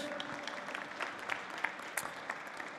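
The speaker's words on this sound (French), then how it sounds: "On peut l'applaudir bien fort." Audience applause at the award ceremony of a chocolate and pastry contest, a steady mid-distance wash of clapping with a few sharper claps standing out over about three seconds.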